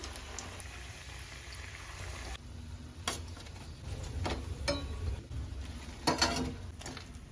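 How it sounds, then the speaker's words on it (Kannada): Onion egg pakodas fry in hot oil with a quiet, steady sizzle, broken by scattered crackles and a few sharper pops, close by with no voices. "ಇದೇ ರೀತಿ ಇವಾಗ ನಾನು ಎಲ್ಲ ಆನಿಯನ್ ಪಕೋಡಗಳನ್ನು ಮಾಡಿಕೊಂಡು ಎಣ್ಣೆಲಿ ಹುರ್ಕೊಳ್ತೀನಿ"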